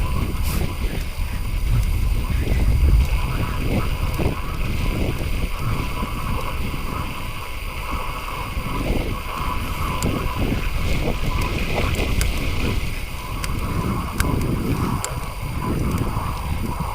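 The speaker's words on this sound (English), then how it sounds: "The wind has died down a bit now, it's just like a breeze." Wind rushing over a microphone while cycling on a country route in North Yorkshire, a steady loud roar throughout that fluctuates in gusts without fading.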